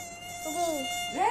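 A mosquito's thin, steady high whine hums close by while a voice rises and falls over it briefly.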